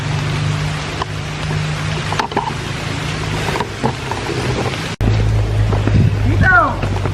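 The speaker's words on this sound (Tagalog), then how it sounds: "Ano ng ulan? Medyo malakas." Heavy rain pours steadily outdoors near a school irrigation ditch, a dense continuous hiss with a low rumble underneath, interrupted by a brief bump and a short voice or bird-like chirps near the end.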